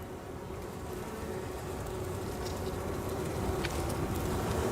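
Calm honeybees buzzing around an open hive during an inspection, a steady close, droning hum that continues evenly throughout with no talking.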